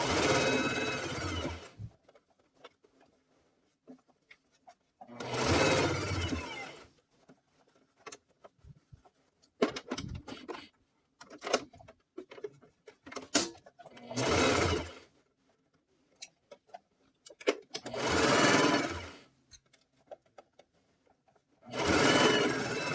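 A sewing machine runs regular stitches on a Simplicity S9924 cargo mini skirt, in several loud bursts of a few seconds each separated by quiet pauses, with speech heard intermittently between the runs.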